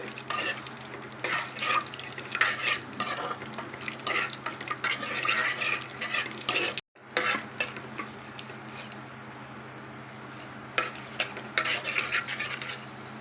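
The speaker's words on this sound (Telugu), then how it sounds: "ఆయిల్ హీట్ ఎక్కాక 2 బగారా పత్తా, హోల్ గరం మసాలా వేసేసుకోవాలి. వేసుకొని ఫ్రై చేసేసుకోవాలి ఒక హాఫ్ మినిట్." Bay leaves and whole garam masala frying in hot oil, a busy close sizzle broken by clinks of a spoon against the pan and a brief drop-out midway.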